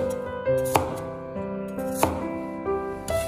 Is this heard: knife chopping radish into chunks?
yes